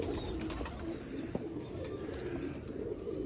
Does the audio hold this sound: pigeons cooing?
yes